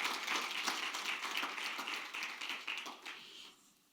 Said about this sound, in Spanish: Give an applause to the King of Glory.